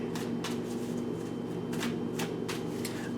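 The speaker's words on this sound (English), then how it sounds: "Let's shuffle these oracle cards too and see what we have with them." Oracle cards being shuffled by hand, a soft continuous riffling with repeated papery bursts, close and steady, no talking.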